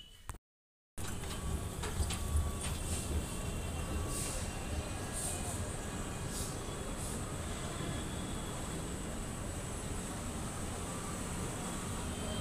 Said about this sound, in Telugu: సో ఇప్పుడు మనం హైదరాబాద్ మెట్రోలో జర్నీ స్టార్ట్ చేద్దాం.